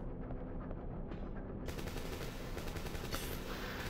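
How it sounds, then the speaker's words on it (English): Rapid bursts of automatic gunfire in the video game Dino Crisis, sharp and repetitive, with the rattle growing louder and denser partway through. "No, the sounds of gunfire."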